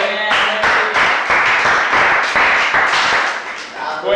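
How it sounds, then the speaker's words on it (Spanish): A small gathering claps in a neighbourhood setting, with distinct, fairly close hand claps in a quick uneven rhythm, loud and crisp, swelling and fading over a few seconds. "Un aplauso."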